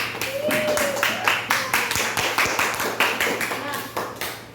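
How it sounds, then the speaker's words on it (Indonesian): A classroom applauds a student group during a lesson, with rhythmic, evenly spaced claps in unison, like a coordinated clapping pattern, close and fairly loud, with a voice briefly audible at the start. "Beri tepuk tangan untuk kelompok 1."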